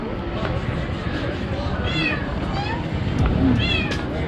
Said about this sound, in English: Oh, and a very noisy cat.